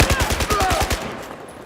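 Rapid automatic gunfire from Battlefield 4 rattles off in a fast, steady string of close shots, then stops abruptly.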